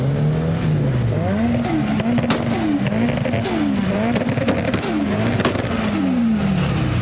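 Drift cars at an event, including S13s and a GT86 with its boxer engine, revving hard with wailing, rising and falling engine notes, loud and close, over bursts of tire squeal.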